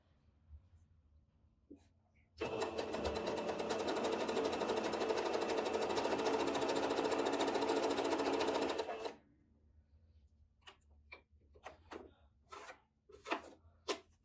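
A sewing machine stitching lastex elastic fabric runs in one continuous, loud, fast whirring burst for about six seconds, then stops, leaving quiet handling clicks and rustles.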